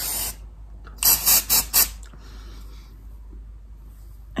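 Four quick hissing spray bursts from an aerosol can of hair product, close by, followed by quiet rustling.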